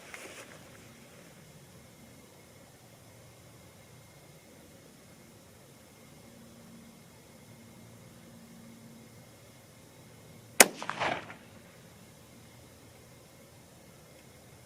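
A single sharp rifle shot from a 22 ARC Howa 1500 Mini rifle during handload testing at a range breaks a quiet stretch of faint hiss, followed by a brief rattling echo.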